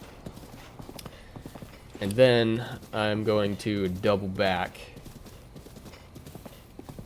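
Horse hooves clip-clop in The Legend of Zelda: Breath of the Wild, a steady trotting rhythm faint in the background while someone talks over it.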